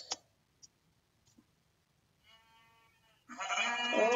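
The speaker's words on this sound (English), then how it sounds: "Ooh, sheeps." Sheep bleating in Minecraft, a couple of short blocky bleats in a quiet field with small clicks before them and a louder, busier burst of bleats at the end.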